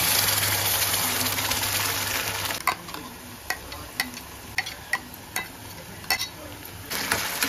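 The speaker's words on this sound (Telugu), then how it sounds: "ఇలా మసాలా పేస్ట్ వేసుకున్న తర్వాత ఇది ఉల్లిపాయల్లో బాగా కలిసేటట్టు అయితే కలుపుకోవాలి" Ground masala paste fries with onions in a pan, first as an even, close sizzle, then as a series of rhythmic scraping strokes while a spoon stirs it through at a steady pace.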